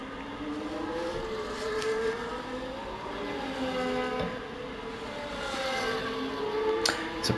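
A Formula 1 car engine in the F1 25 racing game at Britain, a steady high revving drone with rising and falling pitch as the car pushes through its closing laps, moderate and continuous.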